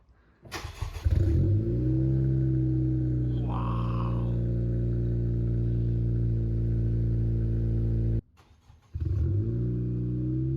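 A Honda Civic fitted with a new downpipe cranks and fires up, then idles loud and close with steady harmonic rumble and a brief rev, cuts out for a moment near the end and restarts.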